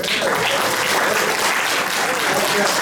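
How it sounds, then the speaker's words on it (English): An audience at an investment conference in Ghana claps steadily and loudly for a few seconds, a dense wash of applause with no pauses. "Give her a round of applause."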